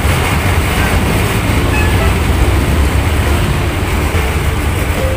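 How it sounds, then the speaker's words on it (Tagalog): LRT train in Manila passing at night as a steady, dense rumble and roar that holds throughout without clear breaks, fairly loud and nearby. "Ayan po yung LRT."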